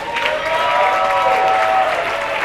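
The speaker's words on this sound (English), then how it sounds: "give your family and friends a big round of applause" A steady wash of applause from a crowd at an evening plunge event at Sandy Point, continuous and fairly loud throughout, with a faint sustained tone running beneath it.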